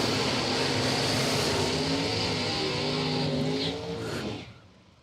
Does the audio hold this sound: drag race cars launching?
yes